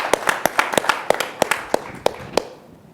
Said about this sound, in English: Yeah, clap on that